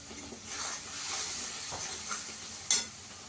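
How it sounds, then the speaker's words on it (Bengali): Spice masala with Kashmiri chilli, cumin and coriander powder being sautéed in oil for a paneer and cauliflower curry, a faint soft sizzle with light stirring and a brief clink near the end. "দিয়ে মশলাটা ভালো করে কষিয়ে নেব।"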